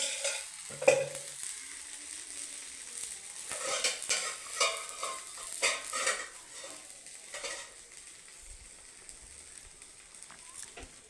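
Flour rotis fry in a pan with a light drizzle of oil, giving a lively crackling sizzle with repeated scraping and stirring bursts of a spatula and clinks of cookware, fading quieter toward the end, with no talking.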